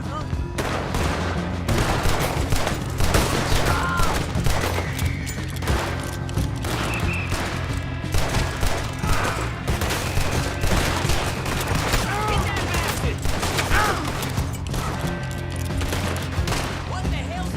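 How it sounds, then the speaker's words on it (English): Video game gunfire during a shootout in a train robbery mission, with rapid bursts of shots and booms layered over continuous background sound and game voices talking throughout. "Shoot, Arthur."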